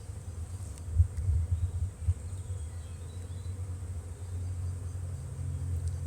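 Honeybees hum around an overwintered brood-and-a-half hive during a frame inspection. The low, steady buzzing swarms close by, swelling in the first couple of seconds and then settling into a continuous drone.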